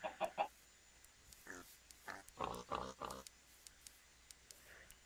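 Minecraft chickens cluck in short clustered bursts, several quick squawking calls close by and fairly loud, separated by brief pauses over a quiet background.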